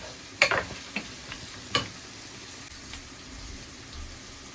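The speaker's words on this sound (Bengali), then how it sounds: "পোলাওর মধ্যে পেঁয়াজ আর গাজর দিলাম।" Onion and carrot tipped into a pot of cooking pilau and stirred, giving a few soft clattering knocks and a faint sizzle early on, then quieter scraping and a low background hiss.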